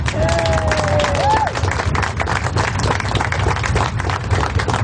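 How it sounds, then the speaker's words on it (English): Applause and crowd noise rise at a campaign event at a Santa Barbara campaign headquarters, a steady dense patter of clapping and babble that runs throughout with a tonal whistle or cheer near the start. "Let's have another round of applause for them."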